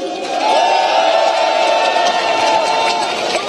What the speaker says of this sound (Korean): 정간사에게 박수를 보내주십시오